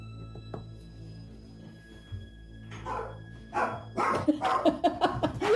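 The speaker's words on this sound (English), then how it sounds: "Dog barking." A dog in the Cascade Mountains barks several times, moderately near, the barks growing louder and more frequent toward the end over a low steady background hum.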